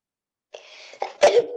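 A single sharp sneeze breaks out in a classroom, preceded by a couple of softer breathy catches, with no talk over it.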